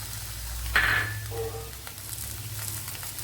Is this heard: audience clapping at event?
no